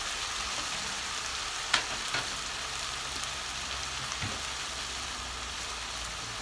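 Potatoes frying in a pan with tomato paste in a home kitchen: a continuous soft, close sizzle with a couple of sharp clinks of a utensil against the pan, no one speaking.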